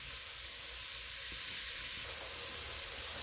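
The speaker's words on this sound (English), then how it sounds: "Okay, we got this sauteing." Carrots and other cut vegetables sauté in a pan, a steady faint hiss of frying with no talk, continuous and even throughout.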